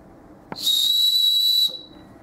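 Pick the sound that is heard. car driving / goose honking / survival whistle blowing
survival whistle blowing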